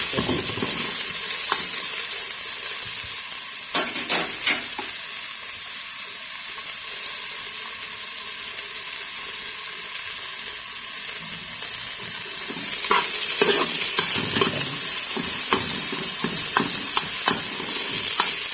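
Onions fry in olive oil in a pan, making a loud continuous close sizzle, with bursts of spatula scraping and stirring clatter around the middle and again toward the end.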